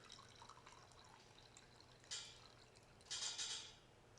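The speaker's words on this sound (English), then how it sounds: "So when I pour it not directly on the gel, but on the sides, kind of like this." Buffer liquid is poured into the side of a gel tray in a lab, a faint trickle under low background hiss with two louder splashing pours near the end.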